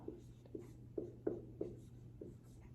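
A pen or pencil scratches out a formula by hand in a quiet room, with a series of short, soft strokes and taps at an uneven pace.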